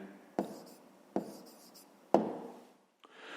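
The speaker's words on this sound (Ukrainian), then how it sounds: "записуємо відповідь, пишемо відповідь" A pen writes an answer by hand on paper in three or four short scratching strokes with brief pauses between them, quiet and close.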